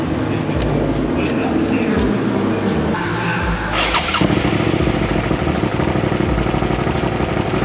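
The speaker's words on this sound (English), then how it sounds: "you're gonna start the engine" A Suzuki SV650 motorcycle engine starts and runs loud and close after an oil change, with an uneven idle that shifts in pitch partway through as the revs change.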